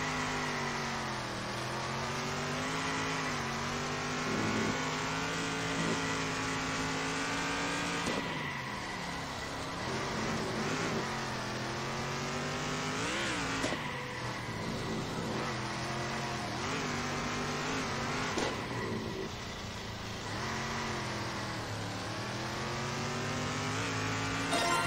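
Small race cars from the video game Circuit Superstars, rallycross and stock car, run their final lap with a steady wall of buzzing engines whose pitch climbs and dips through gear changes and corners, loud and continuous.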